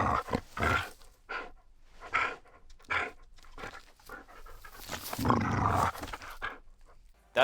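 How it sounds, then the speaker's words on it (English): A dog growls and pants close to the microphone for monster sound effects in the game Hytale, rough breathy bursts rising and falling in uneven pulses, loud and alone. "we also make use of actors, in this case, Kieran's dog, Roland."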